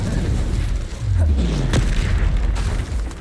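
Spell explosions burst in the Hogwarts Legacy game, with a loud, close boom and a rumbling low sweep at about the middle, set against a dense, continuous battle din.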